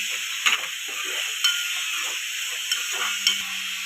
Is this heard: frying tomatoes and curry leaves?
yes